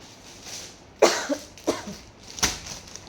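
Three separate coughs, close and fairly loud, spaced about half a second to a second apart with quiet between them.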